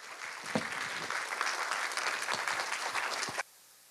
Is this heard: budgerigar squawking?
no